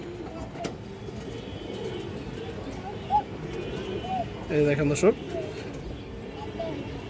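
Pigeons, female birds kept for sale, give a few soft coos and brief flutters among a quiet outdoor background while someone talks steadily over them.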